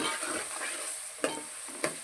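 A dried fish and brinjal curry sizzles steadily in a pan on the stove, with two sharp scrapes of stirring breaking through the close, continuous frying hiss.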